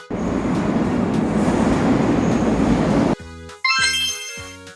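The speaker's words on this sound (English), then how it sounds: "A subway train travels deep in tunnels under the city." A subway train rumbles loudly and steadily through an underground tunnel, then cuts off abruptly into a series of short, evenly spaced tonal horn-like blasts with gaps between them.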